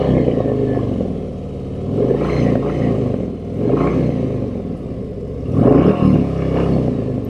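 2023 Harley-Davidson Street Glide CVO engine revving in several loud bursts, rising and falling in a rumbling roar close by, with a sharp throttle blip near the end.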